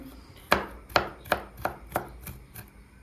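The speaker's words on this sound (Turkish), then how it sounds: "Mercimeğimiz haşlanırken ben de o arada soğanımızı hemen doğradım." A knife chops an onion on a cutting board in six sharp, evenly spaced strokes, close up, each one clear against a faint background hum.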